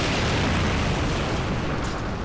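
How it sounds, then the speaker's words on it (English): Loud, sustained roaring boss explosion in the shoot-'em-up Crimzon Clover: World Ignition, a dense rumbling blast with crackling bursts that fills the whole stretch without letting up. "And of course, the explosion is very showy."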